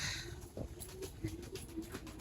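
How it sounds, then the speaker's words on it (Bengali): Pigeons gathered on a rooftop while being fed, giving soft, faint cooing in short repeated bursts over a quiet background. "কবুতরের খাওয়ান দিছে মনে হয় যেহেতু খাবার খাচ্ছে এটা পুরোটাই কবুতর"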